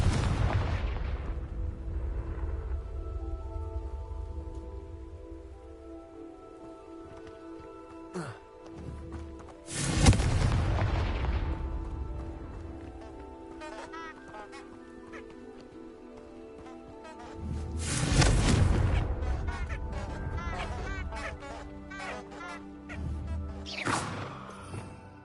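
Confringo blasting spells exploding in Hogwarts Legacy, several loud booming blasts at roughly 10, 18 and 24 seconds over a steady bed of game music and ambience.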